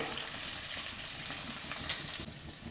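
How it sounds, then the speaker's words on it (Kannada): Curry leaves and cumin seeds sizzle steadily in hot oil, a continuous close frying hiss with a brief sharper crackle midway, no voices. "ಎಣ್ಣೆಯಲ್ಲಿ ಸ್ವಲ್ಪ ಫ್ರೈ ಮಾಡೋಣ ನೋಡಿ"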